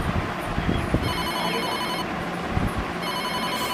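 A telephone rings with a steady electronic tone pattern, repeating in bursts over a low background rumble, fairly close.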